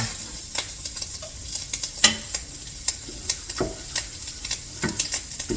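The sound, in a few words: scooping sausage out of a hot pot for gumbo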